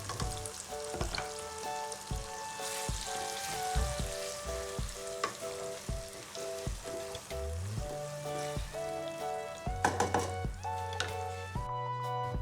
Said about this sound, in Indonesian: lanjut kita akan tumis cabai dendeng tadi menggunakan minyak sisa gorengan